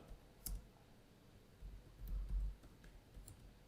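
Faint, sparse clicks of a computer keyboard, a few scattered keystrokes typing a password, with a soft low thump in a quiet room and no voices.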